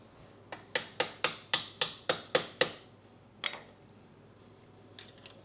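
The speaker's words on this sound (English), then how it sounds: "So I'm going to tap this out lightly with a hammer" Eight sharp, light metallic taps from a hammer tapping out a pin on a Honda XR150L foot peg land in quick, even succession, followed by a couple of scattered softer knocks.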